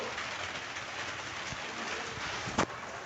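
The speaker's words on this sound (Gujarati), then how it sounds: "તો વરસાદ ચાલુ છે અત્યારે" Steady rain falls outdoors, a continuous even hiss with a brief sharp knock partway through and birds cooing faintly in the background.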